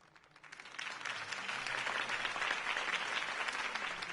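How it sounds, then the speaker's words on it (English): Crowd applause swells after a mayoral campaign speech in a Batman video game, building within half a second into steady, sustained clapping from a large audience that holds loud for several seconds. "could have heard that applause"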